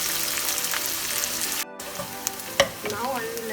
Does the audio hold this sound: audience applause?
no